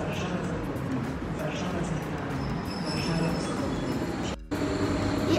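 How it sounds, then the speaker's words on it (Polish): A TLK Lubomirski passenger train of eleven full carriages, hauled by an EP08 electric locomotive, departs Przemyśl Główny station with a steady rumbling roll, while a person talks over it. "I odjeżdża pociąg TLK Lubomirski ze stacji Przemyśl Główny do stacji Gdynia Główna EP08011."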